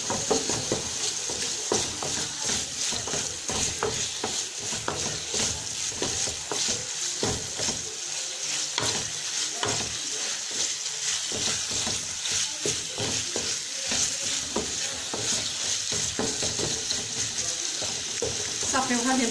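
Filling for stuffed mini squid sautés in a pan, a steady dense sizzle and crackle running throughout with scraping stirs over it, and a voice faintly in the background.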